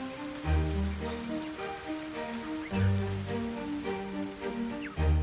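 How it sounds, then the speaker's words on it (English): Raindrops patter steadily on leaves in a Virgin Islands forest at morning, with a low droning hum underneath and faint bird calls scattered through. "A chorus of bird song and raindrops signal the start of a new day"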